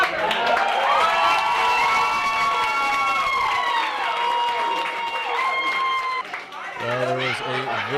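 Excited crowd cheering in downtown Savannah at a Dancing with Savannah Stars contestant event, a sustained roar of shouts and cheers with high voices, fading slightly before a voice speaks near the end.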